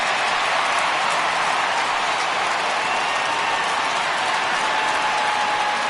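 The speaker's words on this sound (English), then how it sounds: "So he receives a nice ovation from this home crowd" A home crowd in a baseball video game applauds a departing pitcher, a steady, dense wash of clapping and cheering that holds evenly loud for the whole stretch.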